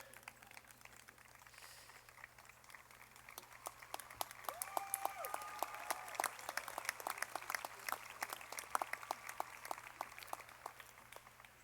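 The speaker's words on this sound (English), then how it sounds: "We'll give them an applause, that's okay." Applause from an audience at a university commencement for Bachelor of Arts degree candidates, faint and distant, building gradually into sustained clapping over a low steady hum.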